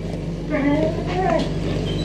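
A dog gives a short, high, wavering whimper over a steady background hum.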